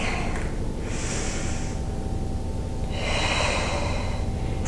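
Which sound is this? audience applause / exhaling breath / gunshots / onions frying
exhaling breath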